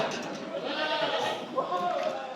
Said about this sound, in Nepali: मलेसियाको बाख्रा।